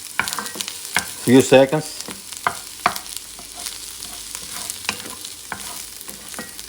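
Garlic is stirred into mirepoix frying in a pot for a French-style lamb stew, giving a low sizzle under scattered spoon scrapes and knocks, with a brief spoken remark partway through.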